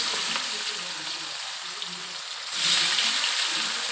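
Sugar, dried chillies, bay leaves and chopped onion fry in oil in a pan for hachari chicken. A close, continuous hiss suddenly grows louder and brighter as more ingredients hit the pan partway through.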